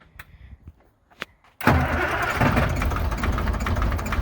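Car engine, right after wiring and steering-fluid work, starting up: faint clicks, then a sudden loud catch into a rough, steady running roar that continues to the end.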